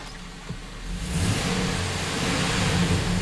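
A Chevrolet Silverado engine, recently serviced with intake and knock sensor work, rises from idle to a higher steady rev about a second in and holds there, a close, even, mid-toned drone with no voices.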